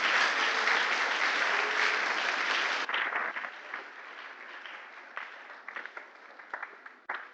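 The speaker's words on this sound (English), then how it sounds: "So loud that this place reverberates with the sound of the applause." Loud, dense audience applause fills a large reverberant hall at a Ghanaian children's gardening and small-animal rearing competition, sustained for a few seconds before thinning into scattered, trailing claps.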